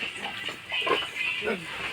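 Pigs on a piggery farm grunt and oink in short bursts at moderate distance, several calls overlapping amid pen noise.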